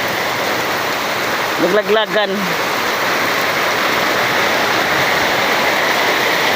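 Heavy rain pours down at a beach, a loud, unbroken hiss that fills the whole stretch, with a single short spoken word rising briefly above it near the middle.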